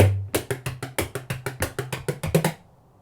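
A bodhrán drum plays quick triplet rolls, a steady run of about fifteen crisp, close strikes over a low resonant hum, then stops.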